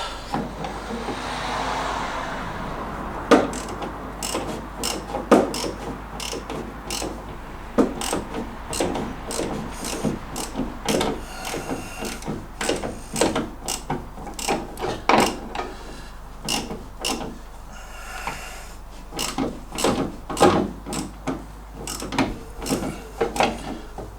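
A ratchet tightens a suspension nut on an MGB during a rebuild, giving long runs of rapid metallic clicks in uneven bursts with short pauses, close up and with no talk.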